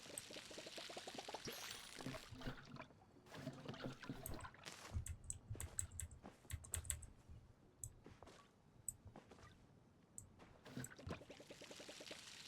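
Water pours from a watering can onto plants in a video game, a soft splashing trickle with scattered clicks, quiet and without speech.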